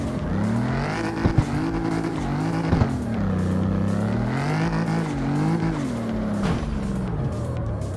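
A 2JZ-swapped car in the CarX Street racing game drives with a loud, steady engine drone that rises and falls through revs, with brief tire squeals and no talk over it.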